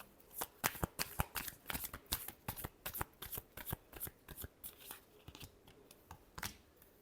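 Tarot cards are shuffled by hand in quick, crisp riffling bursts that repeat in a steady rhythm, close and fairly quiet, with no talk.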